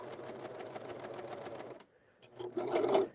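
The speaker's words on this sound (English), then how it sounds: "I'm sewing, then I'll give you more information." A sewing machine runs in a fast, steady stitching rhythm while gathering a skirt, close and clear, stops for a brief pause, then starts again as a voice begins speaking over it.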